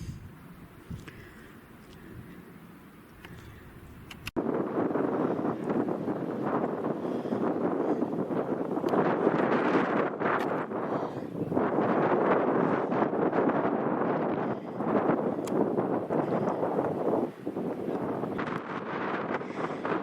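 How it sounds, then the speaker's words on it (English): Strong wind at the Ibaneta chapel buffets the microphone in a steady, roaring rush that carries on for many seconds, with gusts swelling and easing but never dropping away. "It's extremely windy up here"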